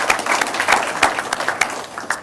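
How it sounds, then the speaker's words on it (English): An audience claps at a lecture series evening hosted at a college, a dense patter of hand claps rising and falling in short waves over a couple of seconds, fairly close and moderately loud. "let's give another round of applause for the association"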